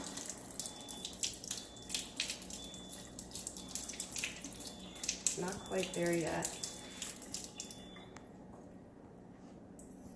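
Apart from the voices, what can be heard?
water running from a new Kangen water ionizer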